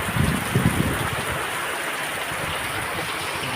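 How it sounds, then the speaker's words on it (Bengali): Heavy rain pours down in Canning, Panikhali, heard while stopped at the roadside during a motorbike trip: a dense, steady wash of noise with no breaks, fairly close, and no voices. "আমাদের এখানে প্রচুর পানি হচ্ছে, প্রচুর পানি হচ্ছে"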